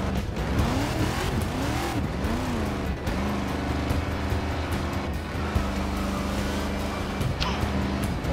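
A NASCAR race car in Forza Motorsport 6 roars loudly and continuously, its engine note sweeping up and down through repeated shifts, with scraping tire noise mixed in.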